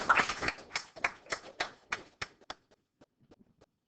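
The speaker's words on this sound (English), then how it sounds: "Let's give him a round of applause" An audience claps after student function presentations in a classroom, a short burst of scattered hand claps that thins out and trails off into a few isolated claps.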